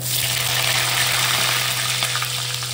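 Potatoes, bay leaf and white cumin fry in hot oil, a loud, steady sizzling hiss that fills the whole stretch without a break, over a low constant hum.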